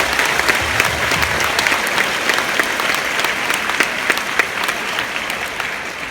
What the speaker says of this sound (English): So I think you guys owe an applause right there for that alone.